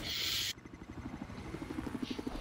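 A helicopter in a video game battle: a rhythmic rotor thumping that pulses steadily and grows slightly stronger, following a short burst of loud hiss at the start.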